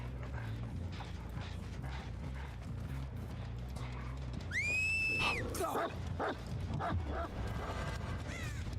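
The Houndmaster's dog from the game Dead by Daylight makes brief barking and whistling cries amid busy, continuous in-game noise with clattering footsteps and mechanical sounds throughout.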